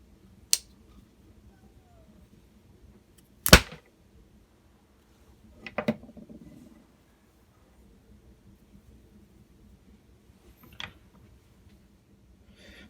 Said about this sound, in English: This knife will go through rope, no problem.